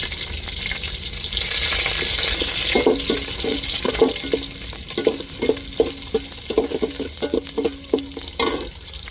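Onions fry in a pan for a chicken curry, a steady broadband sizzle with a run of spatula scrapes and knocks on the pan in the second half, close and fairly loud, with no talking.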